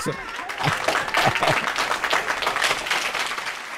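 Applause from a crowd fills the clip, a steady patter of clapping with laughter and voices mixed in.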